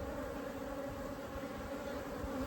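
A continuous, even drone of many Africanized honey bees rises from an open hive, a soft but unbroken buzzing with no other sounds standing out.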